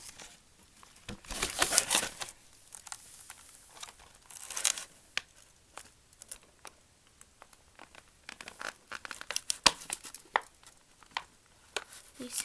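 Faint irregular snipping, tearing and crinkling of plastic packaging cut with scissors, with scattered sharp clicks and rustles close by.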